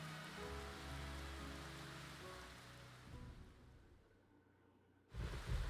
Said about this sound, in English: Also, it's raining?